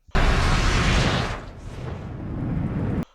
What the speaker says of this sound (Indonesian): Pabrik itu pun meledak.